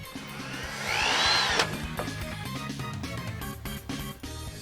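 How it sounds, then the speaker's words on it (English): A power drill bores pilot holes in an acrylic panel for a custom arcade stick, a rising whine that peaks briefly, then gives way to rougher grinding and scraping close by. "Here's a demonstration on why you should drill out the pilot holes."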